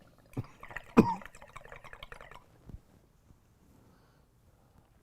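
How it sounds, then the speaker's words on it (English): A few short coughs up close, one louder burst among quieter throat sounds, then near silence. "It's making us cough every time we hit."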